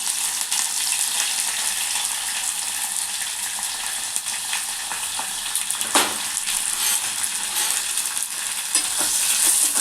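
Onion and green chillies fry in a pan over a low flame, giving a continuous close sizzle with occasional soft stirring scrapes and no voices.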